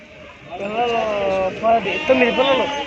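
Sheep bleat in wavering, drawn-out cries close by at a sheep market, overlapping one another, with people talking underneath.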